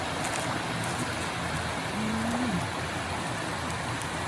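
Rain falls through a mountain forest as an even, hissing patter that stays constant throughout at moderate volume, with no other clear sounds standing out.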